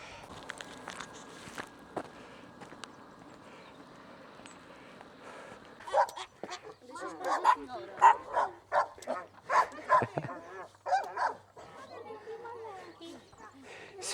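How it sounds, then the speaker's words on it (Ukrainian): Dogs bark and yip in a rapid, loud burst of repeated barks after a quieter stretch of footsteps and faint talking, on a hiking trail on Santa Maria in the Azores. "Собаки вирішили нас покусати."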